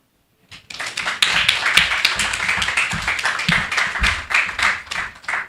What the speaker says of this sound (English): one more loud round of applause